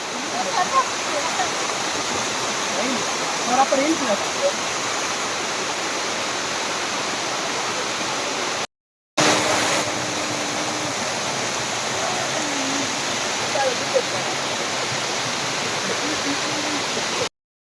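A small waterfall pours in a forest, giving a steady, dense rush of falling water that fills the whole span. A brief dropout comes near the middle, then the flow carries on unchanged.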